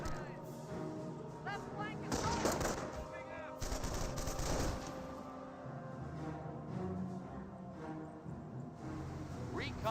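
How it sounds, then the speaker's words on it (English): Rifleman squad gunfire in Company of Heroes, with repeated loud bursts of rifle and machine-gun fire crackling amid battle noise while someone talks over it throughout. "It does get a good burst there on the Panzer Grenadiers now"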